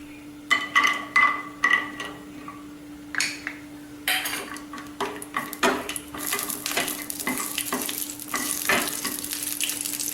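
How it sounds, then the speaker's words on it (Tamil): Cashews roast in hot ghee in a pan for ghee rice, with a steady sizzle building under repeated metal clinks and scrapes of a spoon stirring against the pan, close and fairly loud. "முந்திரி பருப்பை முதல்ல ரோஸ்ட் பண்ணிக்கணும்."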